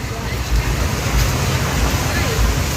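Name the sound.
rushing floodwater after heavy rain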